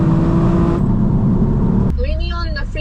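A BMW M4 F82 with manual gearbox and loud exhaust driven fast, its engine roaring steadily from inside the car, then dropping abruptly into a lower, quieter tone near the end.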